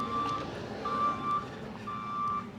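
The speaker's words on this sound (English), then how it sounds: "They're moving cars around." Reversing alarm on a vehicle being moved around a Copart salvage car lot, three steady high beeps repeating at a slow regular interval over a low rumble of idling engines.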